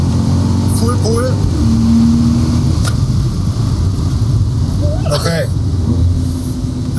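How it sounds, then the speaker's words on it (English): A Mercedes-AMG car accelerates at full throttle on a track, its engine droning loud and steady from inside the cabin, with rising pitch sweeps and a brief spoken word over the engine noise. "Now the acceleration again."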